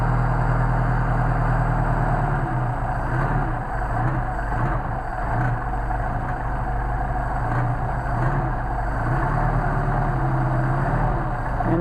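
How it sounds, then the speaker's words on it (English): A cold Mercedes 190SL engine with Solex carburetors idling on full choke, a loud, close, steady low rumble with a slightly uneven pulse, no talking. "Now I've got these set pretty low just to demonstrate how nice the carburetors work. And this is on a cold engine"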